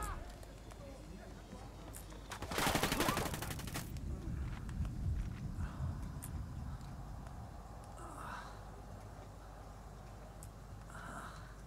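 Gunfire from a firefight in Ghost Recon Wildlands, a loud burst of rapid shots around the third second, then quieter scattered reports, with a voice speaking over the game audio.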